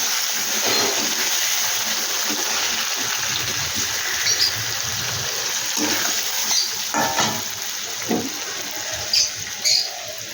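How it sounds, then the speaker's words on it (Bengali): Water splashing and pouring into a pan of mustard hilsa fish curry, a steady watery rush with sizzling and stirring clatter, fairly close, with a few sharper splashes near the end. "এই বাটিটা ধুয়ে আমি জল দিয়ে দেবো।"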